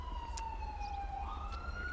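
An ambulance siren responding code 3 in GTA V with the LSPDFR police mod, a fairly faint wailing tone sweeping slowly down then up over a low road rumble, heard alone.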